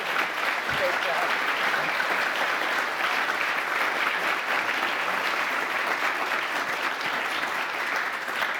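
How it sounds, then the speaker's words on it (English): A conference audience claps for a panel in a long, steady, full-room ovation, with faint voices buried under the applause. "Everyone, please give a round of applause for our amazing panelists."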